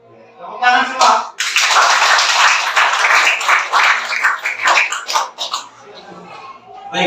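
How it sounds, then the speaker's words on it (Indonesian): Audience applause in a classroom presentation, a burst of dense, close clapping from a group that swells quickly, holds for several seconds, then thins out into scattered claps as voices return. "Tepuk tangan semua."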